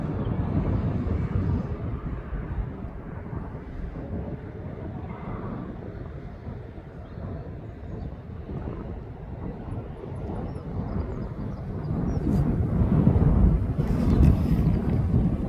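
An airliner climbing out and turning south after takeoff from East Midlands Airport, a distant broad roar that swells toward the end, heard through wind buffeting on the microphone.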